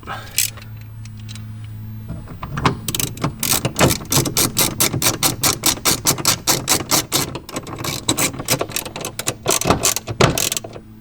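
A T20 bolt being driven on a BMW M3 seatbelt mount gives a rapid, close series of ratchet clicks. The clicks come in bursts with short pauses, over a steady low background hum.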